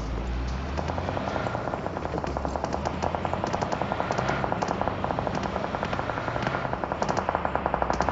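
Rapid automatic gunfire in a video game, a long sustained burst of fast evenly spaced cracks growing slightly louder, with a low rotor-like rumble underneath.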